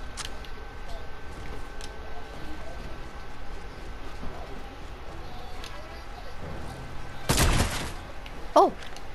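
A sniper rifle shot rings out in a Fortnite match, a single sharp loud crack near the end amid game ambience, followed shortly by a second brief burst.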